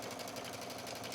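A sewing machine runs steadily while stitching trim onto a pool and beach towel hoodie, a continuous close motor hum with a fast even pulse.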